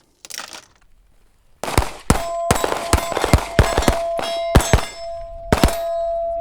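A string of sharp gunshots rings out while shooters fire on the move, a couple of early cracks, a pause, then a quick irregular volley of loud reports with metallic ringing after some hits.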